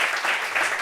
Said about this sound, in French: Elle applaudit, nous applaudissons en même temps